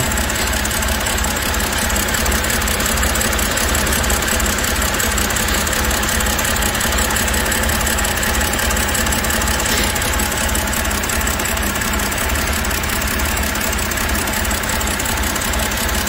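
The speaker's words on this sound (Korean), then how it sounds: "지금 엔진의 소리를 직접 들어보시기 바랍니다." A BMW 528i engine with a rough-idle fault idles steadily at close range, its low rumble uneven with a faint knocking pulse running throughout.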